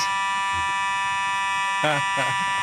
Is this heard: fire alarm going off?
yes